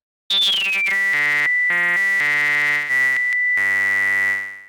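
A bright buzzy oscillator-sync synthesizer tone from VCV Rack steps through a run of pitches, with one high overtone whistling steadily above the fundamental throughout; loud and close, no voices.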